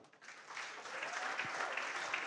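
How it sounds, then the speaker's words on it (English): An audience at a book launch applauds, a dense wash of clapping that swells in the first moments and then holds steady, with no speech over it. "let's have another big round of applause for Rob Caskey."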